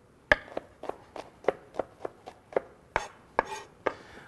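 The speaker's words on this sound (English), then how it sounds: "I like to just kind of mash them down a little" Garlic cloves mashed down for an arugula chimichurri, heard as about a dozen sharp, close thuds in a steady rhythm with no talking.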